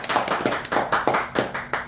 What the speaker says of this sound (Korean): 우리 회장님 말씀에 한마디 박수.